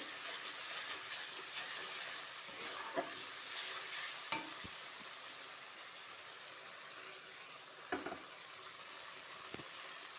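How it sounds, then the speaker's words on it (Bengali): Spice masala with tomato being sautéed and stirred in a pan for a papaya dish. A quiet, steady sizzle continues throughout, broken by a few sharp scrapes and taps of the spatula against the pan. "আবারও একটু কষাতে থাকবো। দেখো, মশলা কষানো হয়ে গেছে।"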